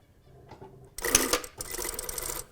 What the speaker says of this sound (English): we're going to stitch this at 6 millimeters, which is a 1/4 inch